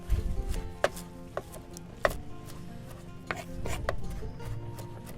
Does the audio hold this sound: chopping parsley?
yes